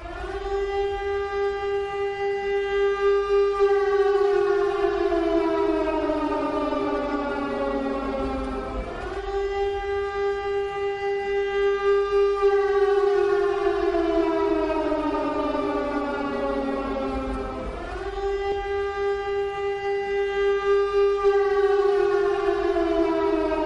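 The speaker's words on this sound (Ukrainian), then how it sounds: "Громадяни, повітряна тривога, повітряна тривога." A civil defense air raid siren sounds in Ternopil, Ukraine, wailing alone and steadily in long rising and falling cycles about nine seconds apart.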